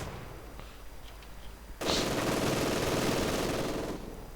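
MG42 machine gun opening up in Company of Heroes 2, a sudden dense roaring burst of rapid fire that starts after a quieter stretch and holds loud for over two seconds before easing slightly.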